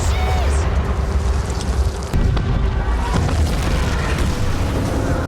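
Bomb blasts from a war film about the Nazi attack on Brest Fortress boom through a dense, rumbling barrage, with one sharp loud burst near the middle amid continuous battle noise.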